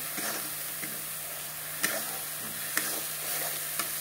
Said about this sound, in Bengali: এখন আরও কিছু সময় কষিয়ে নেব মশলাগুলোকে